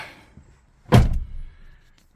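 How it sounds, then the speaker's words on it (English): A single solid thunk of a Fiat 500 door shutting nearby, followed by a short low rumble as it settles. "let the door shut"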